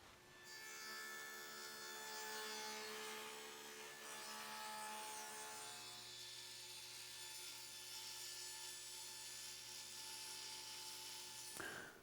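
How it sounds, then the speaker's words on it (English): A table saw fitted with a dado stack cuts grooves into wooden rails for a steamer trunk, giving a steady loud whine with a shift in pitch midway as the blade bites, ending abruptly near the close. "So let's head to the table saw and get started."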